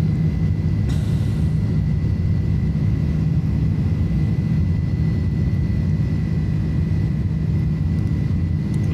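A steady, dense roar of an Airbus A310 climbing in Microsoft Flight Simulator, with a low rumbling jet drone and a faint constant whine above it, loud and unbroken throughout without any voices.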